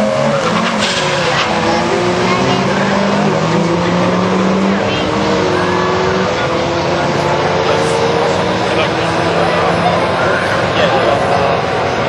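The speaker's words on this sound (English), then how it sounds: "that is a very, very strong burnout from the wagon down there, particularly from a front-wheel drive car" A front-wheel-drive Passat wagon does a burnout at a drag strip: loud, sustained tire squeal and a roaring engine fill the air, with a commentator's voice running over the noise.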